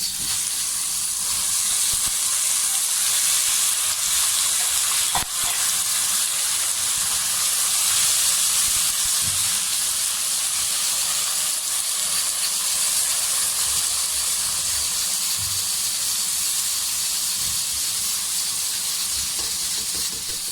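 Loud, continuous sizzling and hissing of onions frying light brown in a hot pan, steady throughout with an occasional clink of a utensil.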